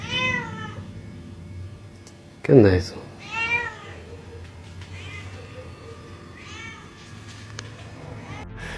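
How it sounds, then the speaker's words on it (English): A cat crying at night, several drawn-out wailing meows spread across the clip with a brief loud burst near the middle, and a person speaks briefly among the cries. "being woken up by a cat crying is not one of them"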